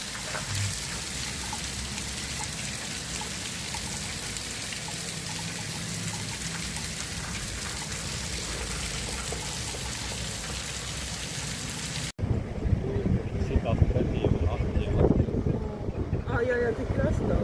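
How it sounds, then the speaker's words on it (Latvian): Heavy rain pours down during a stormy spell in Portugal, a dense continuous hiss of drops drumming on surfaces that grows louder and closer after a brief cut, with no voices. "Mums ir tikai lietus gāzes spēks."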